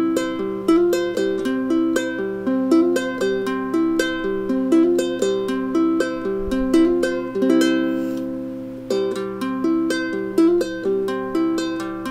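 Ukulele arpeggio pattern with quick hammer-on and pull-off ornaments, played steadily and close, a brief pause near the end before it resumes.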